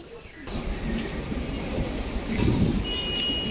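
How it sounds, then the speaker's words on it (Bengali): A Howrah-Medinipur local train at Bauria junction, a low rumbling roll of the train that grows heavier toward the end, with a brief high squeal near the close and background voices on the platform. "ট্রেন চলে এসেছে হাওড়া মেদিনীপুর লোকাল"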